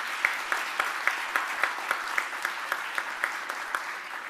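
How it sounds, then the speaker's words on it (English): Audience at a 2019 graduation ceremony applauding at moderate volume, a soft steady wash of clapping with sharper claps landing in a regular, almost rhythmic beat, no talking. "let's give those 23 department heads a round of applause"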